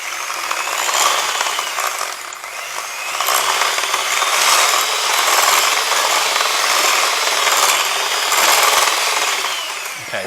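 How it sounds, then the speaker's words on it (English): Eggs being whisked into strawberry polenta cake batter: brisk, continuous scraping strokes, loud and close, with rhythmic surges and no talking. "then we're going to whisk those eggs in"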